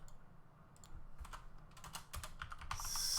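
Light, fairly quiet typing on a computer keyboard, a quick irregular run of close key clicks that grows a little denser and louder toward the end, with no voices.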